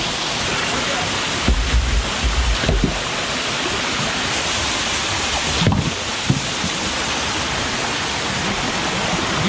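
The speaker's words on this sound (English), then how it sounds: "There was not very much water coming out of here, and now it's like gushing out." Water gushes out of a newly opened hole on a mountainside, a loud, continuous rushing roar like a small waterfall, with a few bumps and handling knocks close by.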